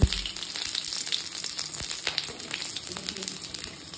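Cumin, radhuni seeds and garlic sizzle and crackle in hot oil, a dense close-up frying hiss with popping bursts and a stir or two.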